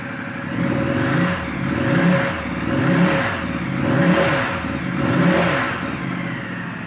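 A 2016 Ducati Multistrada 1200 DVT motorcycle engine runs close by, swelling through several steady throttle rises and falls over a constant mid-pitched hum, loud with no talk.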